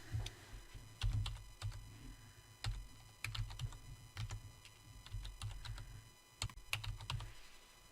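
A password typed on a computer keyboard, a run of quick, close, clicky keystrokes in uneven bursts with short pauses, and no one speaking.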